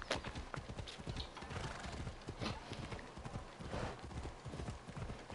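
A horse galloping in Assassin's Creed Odyssey, with rapid rhythmic hoofbeats that stay fairly quiet and steady and a brief whinny, and no clear talk.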